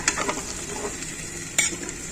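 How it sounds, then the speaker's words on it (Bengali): Ram karela gourd with fried shrimp is stir-fried in a pan, a close, steady sizzle with a few sharp scrapes and clinks of a spatula against the pan. "এবার আমি দেখুন রাম করলা কষা কষা"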